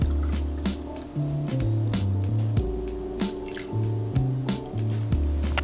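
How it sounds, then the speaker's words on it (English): A stirred cocktail is strained from a mixing glass into a chilled Nick and Nora glass, giving a steady close liquid pour with small drips and ice squishing under a low background hum, with no talk. "I'm gonna strain this into a chilled Nick and Nora"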